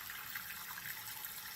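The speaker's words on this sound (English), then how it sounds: "we're going to add some cold water, and we're going to make sure that it just goes over the top" Cold water runs from a tap into a big pot holding sweet corn, a steady, even gushing hiss of filling liquid that lasts throughout with no voices over it.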